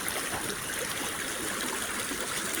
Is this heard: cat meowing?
no